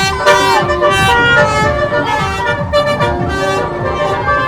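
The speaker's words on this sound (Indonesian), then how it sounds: "Ada mobil aksi tuh, Li." Protest action truck passing along a street at a May Day 2025 rally in Indonesia, with a loud continuous din of engine, horn toots and amplified music or crowd sound close by.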